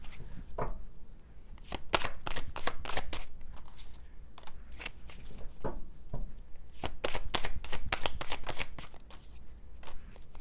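Tarot cards are shuffled and drawn by hand: a series of crisp, fluttering riffles and soft slaps, close and fairly quiet, coming in uneven bursts with short pauses between.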